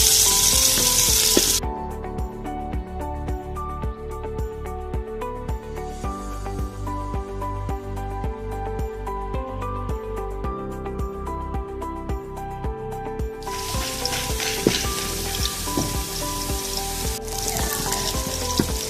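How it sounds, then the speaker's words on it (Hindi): Steady sizzling and crackling of onions browning in a hot pan, continuous and close, with occasional stirring scrapes; no talking. "अब हम प्याज ब्राउन करेंगे, इसका मसाला तैयार करेंगे।"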